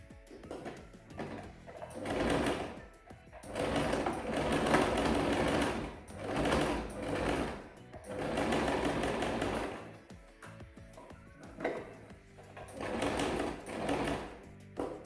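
A sewing machine stitches fabric for swim shorts in several bursts of rapid mechanical whirring with short pauses between them. It is close and moderately loud, with faint speech at times.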